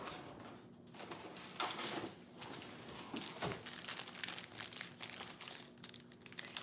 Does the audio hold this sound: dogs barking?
no